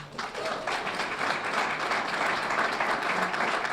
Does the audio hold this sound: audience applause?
yes